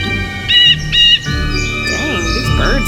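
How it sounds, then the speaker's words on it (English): Loud bright chirps from video-game birds in Ghost Dogs of Moon Lake, two sharp bursts followed by warbling calls over a steady music-like tonal bed. "Birds are loud."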